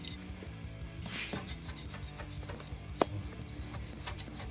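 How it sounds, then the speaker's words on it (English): A scraper drags along the edge of a countertop to remove paint, a faint, close, continuous rasping rub with small irregular scratches and one sharp click, no voices. "you go along the edge here and you scrape any like paint or any other material that you might have gotten on there"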